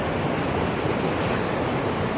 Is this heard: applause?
no